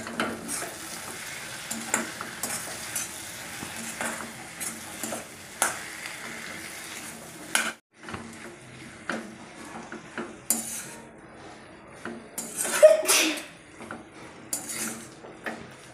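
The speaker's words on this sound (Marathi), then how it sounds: "तर आता हे वांगे पण छान असे मसाल्यात मिक्स करून घेणार आहे।" Eggplant pieces being stirred into masala in a pan: a spoon scrapes and clinks against the metal intermittently over a soft, continuous sizzle of frying, close and fairly quiet, with no talking.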